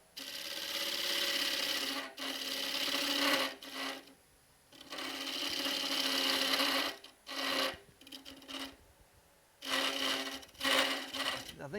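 Wood turning on a lathe with a thin gouge and scraper, the tool chattering against the spinning piece: loud, close rasping scrapes in bursts of one to three seconds, broken by short pauses.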